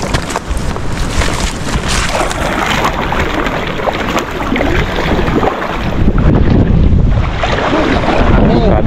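Strong wind roars and buffets the microphone continuously outdoors during crab hunting, with a whooshing rumble that grows louder toward the end.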